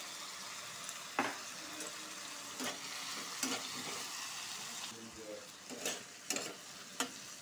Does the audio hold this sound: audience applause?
no